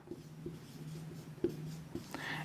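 Chalk or marker writing on a classroom board, quiet scratchy strokes tapping in an uneven rhythm, close and faint.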